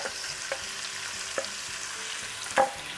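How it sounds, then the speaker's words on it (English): Yellow chilies and oil sizzle steadily in a pan on high heat, a constant frying hiss broken by a few sharp pops and stirring clicks, with no voices. "once that's sizzling, I'm going to add in the chicken"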